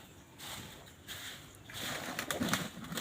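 Soft, low pigeon coos close by, repeating a few times over light rustling and background noise.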